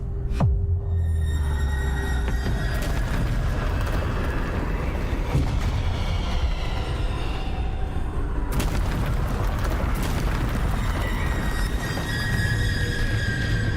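Bombarda spell explosions in Hogwarts Legacy boom repeatedly inside dense, continuous game noise, with squealing effects and rumbling blasts layered throughout.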